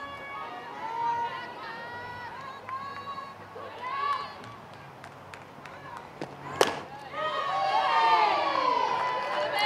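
A home crowd at a women's college softball game between Florida State and Louisville cheers and shouts after a pitch, with scattered yells swelling into a louder, sustained roar near the end, and talk mixed in beneath.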